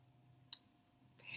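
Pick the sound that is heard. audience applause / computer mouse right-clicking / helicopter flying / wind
computer mouse right-clicking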